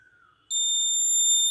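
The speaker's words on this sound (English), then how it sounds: "Alarm is on." A shrill steady electronic tone blares from the alarm of an ESP32-CAM QR code door lock, switching on abruptly and holding loud and continuous after a brief quiet lead-in.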